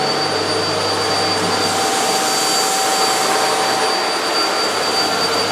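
A Eureka Flash vacuum cleaner runs steadily on a rug, giving a loud, close, constant motor whine and airflow roar throughout, alone with no voices.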